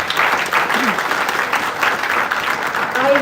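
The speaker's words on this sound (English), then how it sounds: "So let's clap for all the faculty members first of all." At an international academic conference, an audience claps for faculty members: a steady, fairly loud wash of many hands throughout, with faint voices murmuring underneath.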